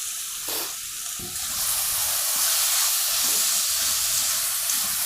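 Grated raw mango sautéing in a pan with salt for an Ugadi dish, a steady close hiss and sizzle that grows louder after the first second, with faint stirring scrapes.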